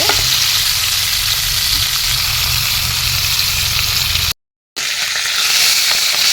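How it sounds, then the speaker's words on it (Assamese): Fish frying in a pan: a steady, loud sizzle of hot oil runs throughout, cut by a brief total silence near the end before the crackle resumes. "মাছখিনি ধুনীয়াকৈ ফ্ৰাই কৰি ল'লোঁ"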